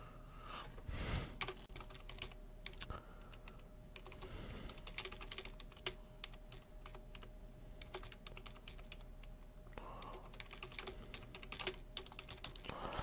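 Rapid, quiet clicking of keys on a computer keyboard, irregular bursts of typing close to the microphone with brief pauses.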